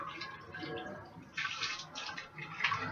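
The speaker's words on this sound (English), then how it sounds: "When you pour the hot water on the extensions" Hot water poured over synthetic braid extensions, splashing and trickling steadily at close range with uneven surges in flow.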